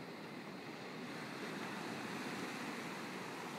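Ocean waves at sunset, a soft continuous wash of surf with broad rushing noise and gentle swells, steady and fairly quiet with no voices.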